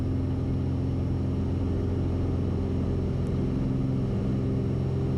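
Light complex aircraft engine at full power during takeoff, a loud steady droning roar with strong low harmonics filling the cabin, continuous and unbroken with no talk.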